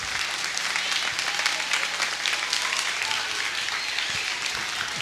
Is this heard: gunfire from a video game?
no